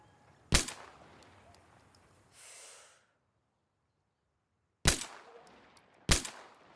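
Three sharp pistol shots in Insurgency Sandstorm on the Farmhouse map: one early, then two close together after a silent gap. Each is loud and close, with faint game noise between.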